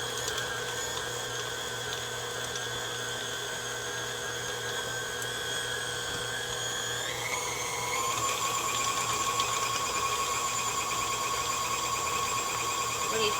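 An electric mixer runs steadily on medium speed, beating cream cheese and butter with a continuous whirring, tonal drone that shifts pitch partway through, loud and close, with no talking.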